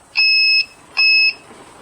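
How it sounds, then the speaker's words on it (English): Two loud electronic beeps from a circuit tester's beeper, each about half a second long, separated by a short pause, high-pitched and steady with no voices. "The beep is because I added a beeper to it."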